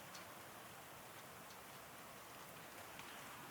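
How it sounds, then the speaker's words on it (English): Light rain falls steadily during an October storm in Selinsgrove, Pennsylvania, as rain turns to snow, a faint, even hiss with occasional soft drop ticks. "You can hear a little bit of rain if you listen"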